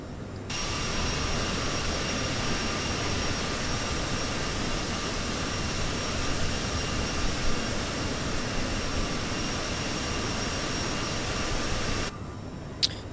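Steady roar of a Bombardier CRJ700 regional jet's engines in flight on a Boston to Philadelphia trip, a dense unbroken rush with a faint high whine, loud and constant, fading out at the very end.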